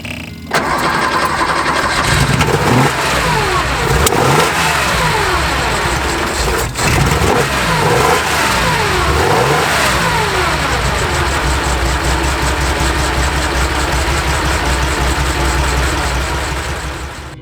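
A 1965 Porsche 911 with a freshened 2.4 engine fires up and revs, the flat-six rising and falling through repeated throttle blips before settling into a loud, steady idle.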